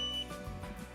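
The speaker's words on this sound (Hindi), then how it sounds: "हम यहाँ पर जब एंटर कर रहे थे तो आप सुनेंगे कि ये बीप की आवाज़ है" Electronic beep at an entrance gate meant to guide visually impaired visitors, heard as a steady tone held through a short moment, soft and somewhat distant with no talk over it.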